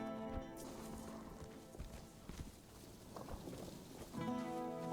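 Horse hooves clip-clop at a steady walking pace in the video game Tainted Grail: The Fall of Avalon, close and moderately loud over a faint musical backdrop, with a brief whinny-like tone near the start.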